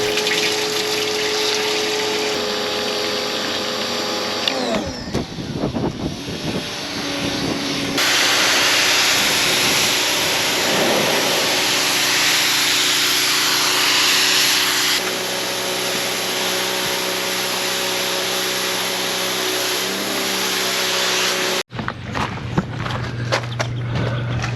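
A pressure washer hisses loudly as water sprays against a camper's exterior, with the pump droning and the spray changing tone in stretches before cutting off abruptly.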